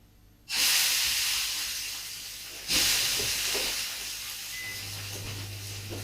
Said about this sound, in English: And you'll see it sizzle straight away.